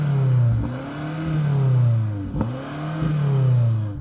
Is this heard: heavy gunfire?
no